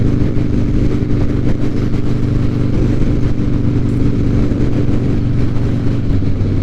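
Harley-Davidson motorcycle cruising at about 75 mph, a loud, steady engine drone with a deep throbbing exhaust and constant wind roar, unbroken for the whole stretch.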